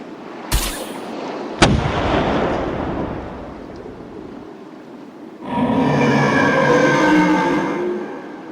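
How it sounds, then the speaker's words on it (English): A harpoon fires in an audio drama: two sharp, loud cracks with a booming rumble that fades, followed by a sustained grinding, mechanical roar. "I'm going to fire the harpoon now."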